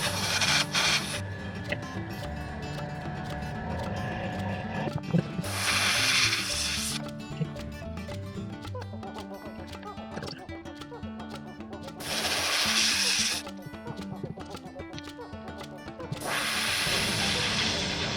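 Airbrush hissing out thinned metallic bronze paint onto a clear fishing lure, steady low-pressure spray in several bursts separated by quieter handling and mechanical clicks, close by.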